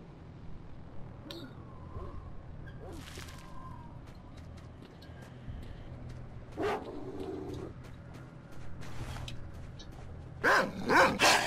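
Dog barks and yips from a video game, a few short bursts scattered through a steady game background, with a louder cluster near the end.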